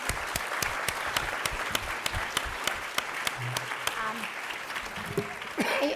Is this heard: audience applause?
yes